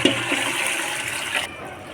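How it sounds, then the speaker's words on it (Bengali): Hot water poured into a pot of beef curry with potatoes and pointed gourd for gravy, a loud continuous gushing splash that cuts off abruptly near the end. "ঝোলের জন্য গরম পানি দিয়ে দিচ্ছি"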